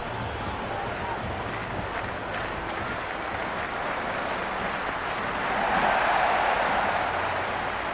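A stadium crowd in the cricket video game Cricket 26 roars and applauds continuously, a broad wash of noise that swells louder toward the end, while a commentator talks over it.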